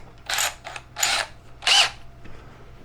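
A drill bit widens a hole in a plastic container to a half-inch size in three short, loud bursts. Grinding, creaking cuts are separated by brief pauses, and the sound is close up with no talk.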